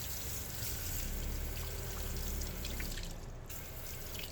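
Water spray rinses a car wheel on a detailing stand, a continuous hissing splash with a brief dip near the end.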